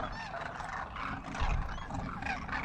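Many birds calling at Phalodi in Rajasthan, a steady jumble of honking, goose-like cries overlapping without pause, fairly loud and close over open-air background.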